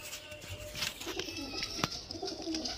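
Madrasi pigeons coo in a loft, soft low murmuring calls close by among faint rustles and clicks over a few seconds.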